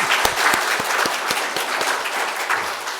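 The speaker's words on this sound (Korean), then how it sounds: "우리 격려하는 차원에서 또 하나님께 큰 영광이 되도록 큰 박수 한번." A church congregation at a Sunday service gives a steady burst of clapping for the choir, dense and sustained for the whole stretch, with no talking.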